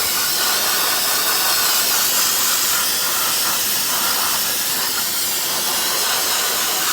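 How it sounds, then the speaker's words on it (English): Brake cleaner aerosol blasts onto the brake rotor of a 2018 RAM 2500 truck, a loud, close, unbroken spray hiss lasting several seconds with no talking. "Brake cleaner's getting it off there."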